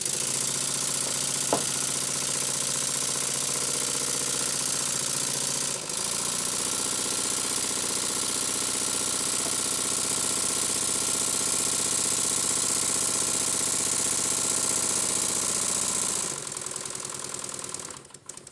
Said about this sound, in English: with the engine notched up, it changes the position of the eccentric rod relative to the valve fork